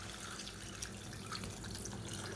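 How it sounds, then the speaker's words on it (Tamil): Water trickles and splashes into a cooking pot while dal rice is being prepared, a soft, continuous pouring sound with faint drips, fairly quiet and without speech. "இப்போ இதில் தண்ணி சேர்த்துக்கலாம்."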